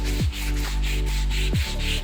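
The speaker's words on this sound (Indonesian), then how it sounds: "ini saya pakai amplas ya" Hand sanding a wooden dining table top with sandpaper during finishing prep, a steady, continuous rubbing scrape that carries on close and alone for about two seconds.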